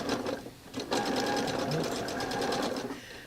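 A sewing machine stitches a quilt piece along the diagonal in steady rapid bursts, running close and fairly loud with brief pauses, the machine noise continuing for most of the moment.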